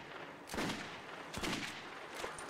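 Two sharp, fairly distant gunshots in the Metro 2033 Redux video game, a short gap apart with a fainter third report at the end, in a quiet setting.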